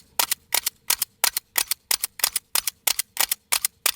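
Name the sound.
Glock pistol struck repeatedly against a concrete block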